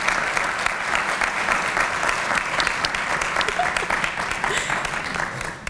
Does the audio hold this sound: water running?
no